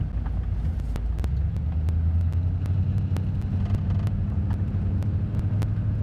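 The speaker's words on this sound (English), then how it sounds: "just backing all the way up my driveway" A car in a snowy forest setting backs slowly up a driveway with a low, steady engine drone and rumble, accompanied by scattered sharp clicks throughout and no talking.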